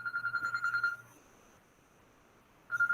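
A phone rings with an incoming call: a bright electronic ringtone pulses rapidly for about a second, falls silent, then starts again near the end, close and fairly quiet.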